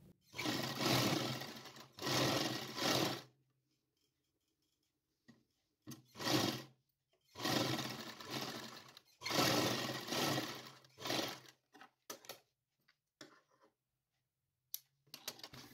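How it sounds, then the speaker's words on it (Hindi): Sewing machine stitching the sleeves of a small winter night dress, in several loud bursts of running stitches separated by pauses and a few short taps. "दोनों साइड से सिलाई करके मैं आपको दिखाती हूँ"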